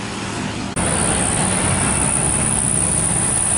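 A Primajasa bus powers uphill with a heavy, steady roar of engine and road noise, close and loud throughout, with one brief dip before the rumble resumes.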